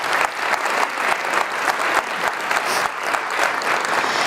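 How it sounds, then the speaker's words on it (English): An audience claps steadily, a dense patter of hands that holds level throughout without cheering. "so please, round of applause."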